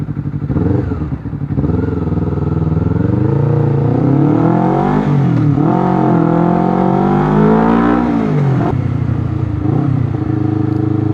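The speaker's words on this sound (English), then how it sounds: "as soon as you put the gas in, even if I'm in second gear, I put full gas" A Honda CBR 250 RR twin-cylinder motorcycle is ridden at full throttle, its engine note climbing in repeated rising sweeps through the gears, loud and close with a brief lull early on.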